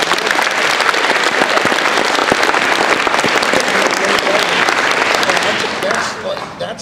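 Audience applause at an anti-bullying standup show in a high school, dense continuous clapping from a large crowd that stays loud throughout and fades slightly at the very end.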